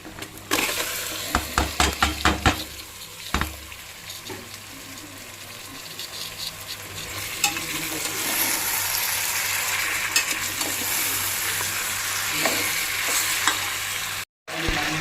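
Country chicken hits a pan of fried masala and sizzles steadily while it is stirred. Several sharp clacks of a spoon or utensil sound near the start, and a low, continuous frying hiss follows.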